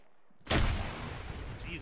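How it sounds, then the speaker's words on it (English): A frag grenade goes off inside a bunker in the video game Arma, a sudden loud blast after a moment of quiet, followed by a decaying rumble, with a faint voice near the end. "Hold short of the bunker, frag's going in."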